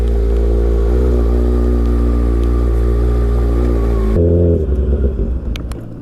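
A 2019 Kawasaki Ninja ZX-6R fitted with a full M4 GP exhaust revs loudly and steadily up close, its deep harmonic engine note holding high before it suddenly drops and sputters down in the final seconds.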